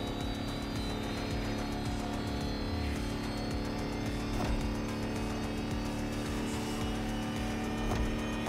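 An electric race car in the racing game The Crew Motorfest drives at speed with a steady high-pitched motor whine and rushing road and wind noise, loud and continuous throughout.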